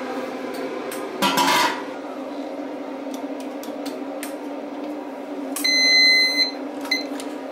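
Kitchen timer on a home beer brew day sounding with a bright, electronic high-pitched beep near the end, over a steady background hum, with a few clanks and knocks earlier.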